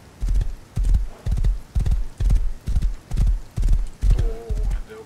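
Horse hooves in the video game Rust clip-clop in a steady, loud rhythm of about eight paced strikes, close by and alone, with a brief whinny-like tone near the end.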